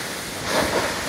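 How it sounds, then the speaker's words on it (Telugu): Heavy rain falls on the mountain path to Vasudhara waterfall near Badrinath in Uttarakhand, a loud, steady wash of noise that swells briefly in the middle. "వర్షం బాగా పడుతుంది"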